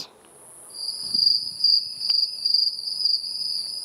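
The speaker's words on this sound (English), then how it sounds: "crickets." Steady high-pitched cricket chirping, a continuous shrill trill with a second fainter insect tone above it, alone in a quiet night setting.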